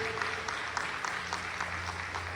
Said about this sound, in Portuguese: Isso, aplauda Ele.